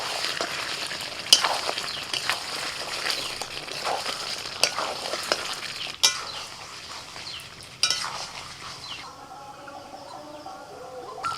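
Yogurt-marinated chicken frying in a pan, stirred with a utensil: continuous moderate sizzle punctuated by occasional metallic scrapes and clinks, the sizzle thinning toward the end, no voices.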